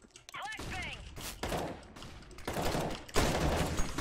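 Bursts of gunfire from the video game CS:GO crackle in rapid volleys, growing louder toward the end, mixed with a short whistling effect and background game noise.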